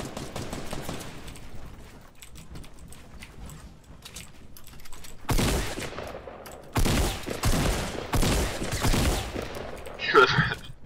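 Fortnite shotgun fire from a heavy pump shotgun, a few loud blasts in separate bursts midway through after a quieter stretch of game noise.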